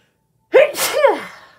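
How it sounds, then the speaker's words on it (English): A single person sneezes once, loud and close, after a moment of silence, with a short sharp intake followed by the explosive burst and a fading tail. "I need to sneeze, guys."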